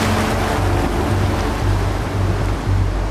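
Ordinary wind-driven sea waves wash and surge in a continuous, loud roar of surf, with low rumbling swells rising and falling throughout and no voices.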